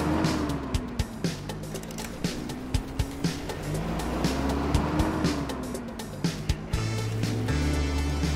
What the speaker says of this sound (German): Er fährt jetzt weg.